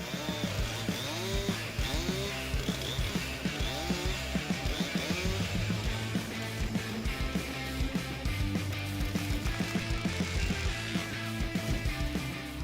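A Husqvarna 592 XPG chainsaw cuts big trees into logs, its engine snarling loud and close with a steady, continuous drone that surges and bogs repeatedly as the chain bites through the heavy wood.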